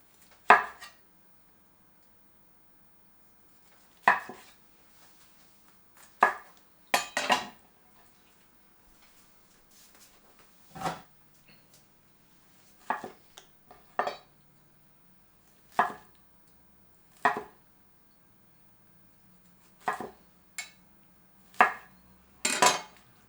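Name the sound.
knife cutting pineapple into bite-size slices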